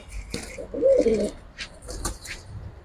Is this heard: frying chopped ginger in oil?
no